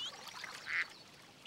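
Ducks on open water give soft, faint quacks amid gentle splashing and rippling, with a brief brighter call in the middle and a sharper sound at the very end.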